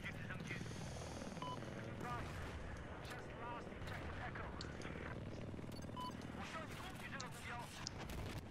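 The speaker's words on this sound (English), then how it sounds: "for the attack chopper on B." Attack helicopter in the video game Battlefield 4, a steady rotor and engine drone running throughout with scattered gunfire and explosions mixed in, players talking over it.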